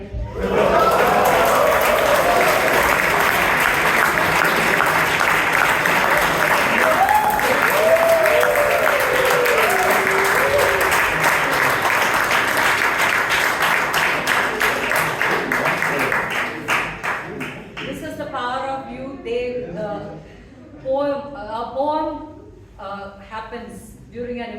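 Audience applause at a Bangalore Toastmasters Club meeting, loud steady clapping filling the room for most of the stretch, then tapering off as voices begin talking near the end.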